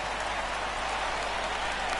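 Baseball stadium crowd in the video game MLB The Show 19, a dense, steady wash of distant cheering and applause with no distinct voices.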